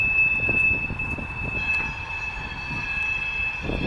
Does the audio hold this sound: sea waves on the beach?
no